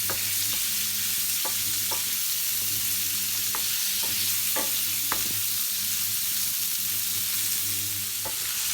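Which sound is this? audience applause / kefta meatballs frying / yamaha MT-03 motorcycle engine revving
kefta meatballs frying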